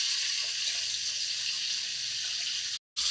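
Stingray fish pieces fry in a pan of oil, a steady bright sizzle that runs unbroken and fairly close, cutting out briefly near the end.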